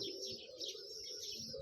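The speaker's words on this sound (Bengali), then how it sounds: "এই পাশে হচ্ছে কবুতরের এরিয়া। এই যে দেখেন কবুতর" Pigeons in a rural pigeon coop give soft, low cooing calls close by, with faint chirps layered over them in a short, fairly quiet stretch.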